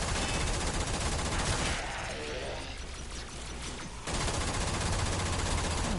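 Fast, dense gunfire from the Hakus weapon in the Warframe video game, a loud continuous rattle that dips briefly partway through and then resumes at full intensity.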